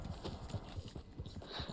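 A horse's hooves clip-clop steadily and fairly faintly in Red Dead Online, repeated quick hoofbeats over a low game background with no talk.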